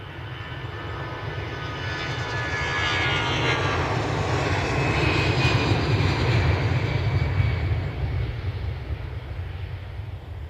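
Airplanes taking off and landing at Edinburgh Airport produce a loud, continuous engine roar that swells toward the middle and eases off slightly near the end, with no voices.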